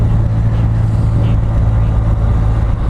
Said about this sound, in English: it just made a downshift